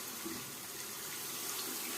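Tap water runs in a steady, soft, even stream into a sink while a double-edge safety razor is rinsed, a faint close hiss with no talking.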